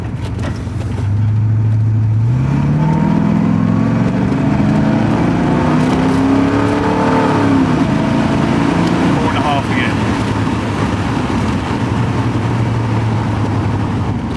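A Porsche 928 V8 engine rising from idle to higher RPM during transmission tuning, a steady loud drone climbing in pitch then settling back down, with a voice speaking over it.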